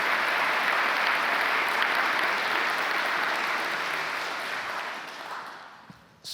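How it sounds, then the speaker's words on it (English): Sustained audience applause fills a university State of the University presentation, dense and steady for several seconds before tapering off near the end. "So let's have some applause for that."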